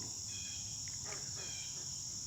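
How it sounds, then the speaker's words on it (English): Frogs call steadily at French Creek in Warwick Park, a thin continuous high trill with brief chirps over a low background hum. "Those are the nice frogs."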